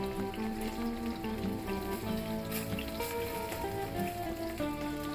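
Pieces of shola kochu (taro) fry in hot oil, giving a steady, fairly faint crackling sizzle that stays even throughout with no talking.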